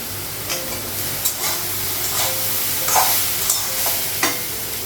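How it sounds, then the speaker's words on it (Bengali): Soybean chunks and potatoes fry together in a kadai with a steady close sizzle, broken by a few sharper spits and the scrape of stirring; no one talks. "সয়াবিন আর একটু ভাজা হয়েছে"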